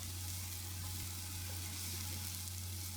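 Pork with chopped Thai chili sautéing in a pan for ginataang langka, a dense continuous sizzle with light stirring under a steady low hum, with no speech.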